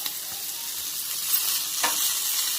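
Paneer shawarma filling fries in a pan as chilli sauce goes in, making a close, even hiss of sizzling with a couple of soft stirring scrapes and no voices.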